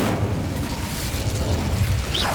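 Incendio fire spell cast in Hogwarts Legacy, a dense roaring burst of flame that holds steady for a couple of seconds, loud and close with a brief rising whistle near the end.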